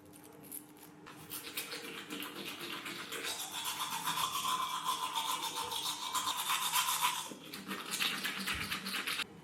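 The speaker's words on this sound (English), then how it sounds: "just finished brushing my teeth and washing my face" Someone brushes their teeth with a toothbrush in a bathroom, a quiet close rhythmic scrubbing that builds in the middle and eases off, with water splashing near the end.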